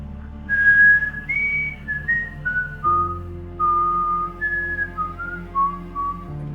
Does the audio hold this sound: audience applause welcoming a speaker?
no